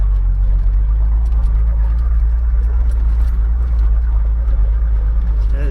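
A car driving on outback dirt tracks near Mount Isa, with a steady, loud low engine rumble and road noise throughout, plus faint rattles and a few bird calls.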